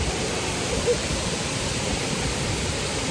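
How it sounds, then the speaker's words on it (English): A waterfall in Costa Rica, a loud, dense, steady roar of falling water filling the whole scene with no break. "swimming in the waterfall in Costa Rica again"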